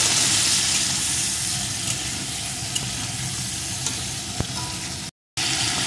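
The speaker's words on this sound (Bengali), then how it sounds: "এখন চিংড়ি মাছটা একটু এপিট ওপিট ভেজে নেব।" Salted, turmeric-coated shrimp sizzle steadily in hot oil in a pan, a continuous close frying crackle with a few small pops, briefly cut out near the end.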